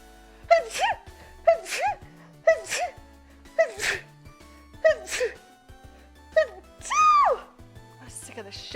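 A female streamer sneezes in a rapid series, about seven sharp, loud bursts at a steady rhythm, each with a quick gasping intake before it, close to the microphone.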